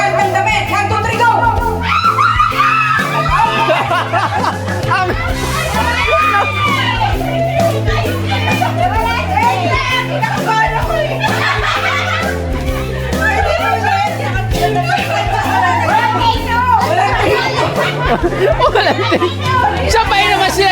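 Children at a family get-together at a private pool villa shrieking and shouting together during a party contest, with loud overlapping voices, laughter and chatter throughout.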